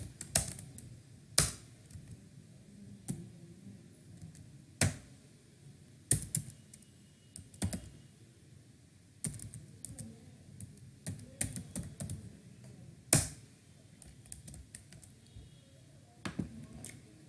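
Sparse, soft keystrokes on a computer keyboard while code is typed, single clicks and short runs separated by pauses, close by with no talking.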